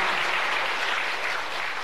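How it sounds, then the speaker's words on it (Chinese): Studio audience applause from a 1994 Chinese television comedy series, a steady continuous wash of many hands clapping with no voices over it. "你们老鼓掌"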